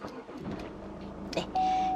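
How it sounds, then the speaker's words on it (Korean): A Chevrolet Orlando RV fired up with its push start button: a short starter whir and catch, then the engine settles into a steady idle with a chime tone, heard close inside the cabin. "엔진 소리 훌륭하게 잘 들리고 있고요"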